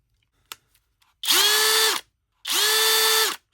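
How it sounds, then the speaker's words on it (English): Parkside 12V cordless drill and driver, straight out of the box, whirring in two short bursts of under a second each, close and clear, after a faint click. "Here's the drill."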